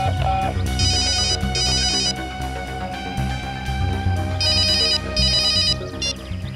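A phone ringtone chirps in repeated electronic bursts, two rings, a pause, then two more, over a low background hum.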